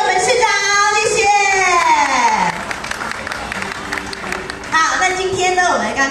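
An audience at a used-car marketplace opening ceremony in Taoyuan applauds to thank the mayor. A loud voice over a PA comes first, then a burst of clapping crowd noise, with the voice returning near the end.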